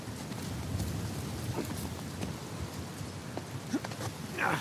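Storm rain in Uncharted 4: steady, soft patter of rain with scattered louder drops and faint gusts, continuous and low in level, no voices.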